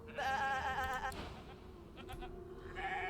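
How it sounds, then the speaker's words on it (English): Close sheep bleat from the Divinity Original Sin 2 video game, one drawn-out wavering call followed by a fainter second bleat near the end, over quiet game ambience. "Shaking her fluffy coat, the sheep eyes you balefully."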